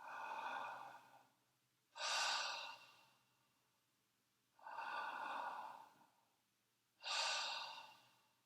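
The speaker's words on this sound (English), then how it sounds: "You want to breathe full without forcing it." Slow, steady, full breathing: two long airy inhale-exhale cycles, each breath smooth and unforced, close and clear with brief pauses between, no talking.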